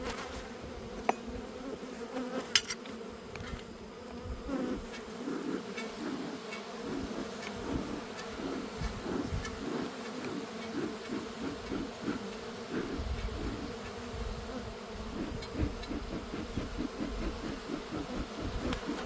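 Honey bees buzz continuously around a hive during summer hive checks, a dense, steady drone of many wings close by, with no voices.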